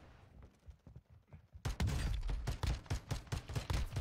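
Rapid video-game gunfire erupts in a loud, dense burst of repeated shots after a quieter stretch of softer, scattered firing, with no talking over it.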